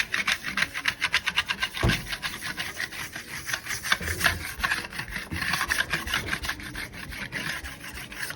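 Steel trowel polishing a Venetian plaster marble-effect finish in a bathroom, a steady rhythmic scraping rasp of repeated strokes close by, continuous throughout with no talk.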